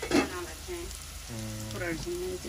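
Spices with ginger-garlic paste sizzle in a pan as a splash of broth goes in for braising, a soft steady frying hiss under a woman's speech.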